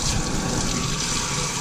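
Hot water pours steadily from a tap onto a K&N reusable air filter, a continuous close gushing rinse with no talk.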